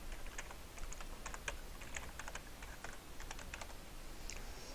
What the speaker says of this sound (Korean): 백스페이스 키 눌러가지고 지워줬고